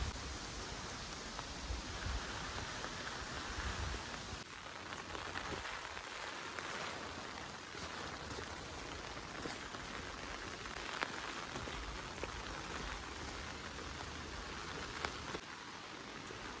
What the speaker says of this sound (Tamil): இன்றைக்கி கொஞ்சம் கூடுதல் மழை மாதிரி தாங்க தெரியுது